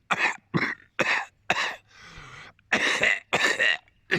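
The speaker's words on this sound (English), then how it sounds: "No wonder we're all coughing." A series of harsh, close coughs in a steady rhythm, with a brief wheezy breath between bursts.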